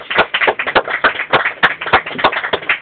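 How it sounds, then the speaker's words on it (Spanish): An audience applauds singers at a performance of a song, with crisp, fairly close clapping in an irregular burst of hand strikes that continues strongly from start to finish. "Bárbaro, los aplausos"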